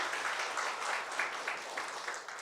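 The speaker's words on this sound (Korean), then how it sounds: "이분들을 위해서 환영의 박수를 주도록 하겠습니다" At a Korean lecture on science and faith, an audience gives brief, faint applause to welcome first-time attendees, a soft, even patter of many hands heard from a distance, with no speech over it.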